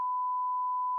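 Steady censor bleep, a single pure tone held unbroken for about a second at moderate level, with no other sound around it.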